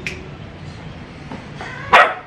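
A dog gives a single sharp bark on command near the end, after a quiet stretch of low room noise.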